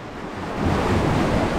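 Ocean waves break and wash along a beach of rough, sandpaper-like rock on Tenerife, a steady broadband surf roar that swells louder about halfway through, with wind buffeting the microphone and no talking.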